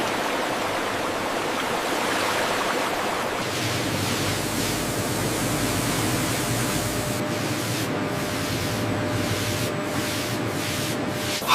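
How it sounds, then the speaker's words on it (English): High-pressure water jets spray watermelons in a factory cleaning line, a loud continuous hiss of rushing water that changes texture partway through and turns slightly choppy toward the end. "High-pressure water jets meticulously clean each rind, ensuring pristine quality."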